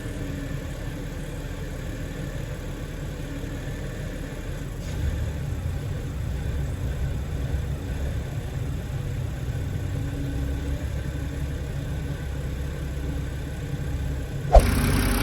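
A rough-running BMW engine idles with a steady, low, slightly uneven rumble that holds throughout, broken by one brief sharp knock near the end.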